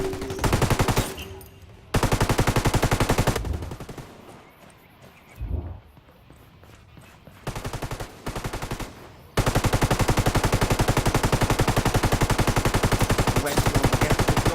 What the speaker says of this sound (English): Gunshots going in at West.